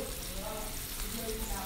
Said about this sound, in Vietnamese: Sau khi dầu đã sôi lên thì mình lại cho cá vào chiên.